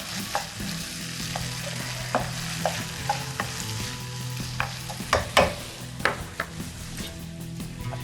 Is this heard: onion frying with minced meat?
yes